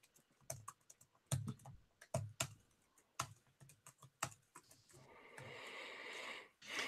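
Typing on a computer keyboard, a quiet, close series of irregular key clicks with pauses, followed by a soft rushing noise toward the end.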